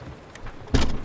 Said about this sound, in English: The sound of the rain growing louder and then shut.